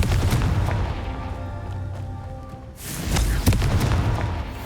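A booming spell explosion in the Hogwarts Legacy video game rolls through steady game ambience, with a deep rumbling blast swelling midway and lingering.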